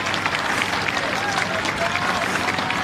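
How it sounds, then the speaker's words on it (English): Spectators at the Henley regatta finish, by the enclosures on finals day, keep up a dense, sustained roar of cheering and applause for the rowers in the Stonor final, loud and close throughout. "they'll be enjoying these crowds here on the finals day, cheering them through the enclosures"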